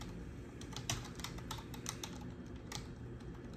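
Typing on a computer keyboard, entering PowerShell commands in the ISE, makes quiet, close, rapid clicks in an uneven stream of keystrokes with occasional louder taps, with no voice.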